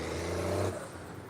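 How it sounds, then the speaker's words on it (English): A rough, idling old worn-out truck engine rumbles with a low uneven drone that steps down partway through, close and steady. "Old wore out truck sound like an old wore out truck"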